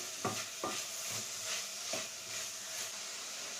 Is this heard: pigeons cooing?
no